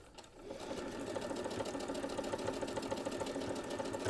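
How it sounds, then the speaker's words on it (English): A sewing machine stitches a quilt block seam with a fast, steady mechanical whir and rhythmic needle clatter, close and continuous after a short pause at the start. "So start sewing."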